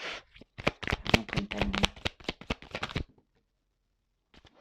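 Tarot cards being gathered and shuffled by hand, a close, crisp run of rapid riffling flutters lasting a few seconds, then near silence with a faint rustle at the very end.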